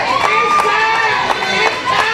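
A crowd at a packed NWA Southern All Star Wrestling show in a sawmill venue cheers and shouts loudly, a dense roar with sharp bursts of voices throughout.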